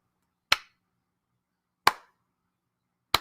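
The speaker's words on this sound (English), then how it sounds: "You get the slow clap." Three single, sharp hand claps spaced far apart, each crisp and isolated against silence, in a slow, deliberate rhythm.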